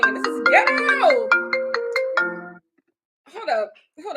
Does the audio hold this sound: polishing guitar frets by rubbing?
no